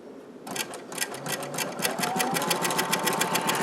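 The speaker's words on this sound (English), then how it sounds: "flip it. And sew it in." A sewing machine runs steadily, stitching together bias strips of fabric in a rapid, even chatter that starts after a brief pause and continues close and loud.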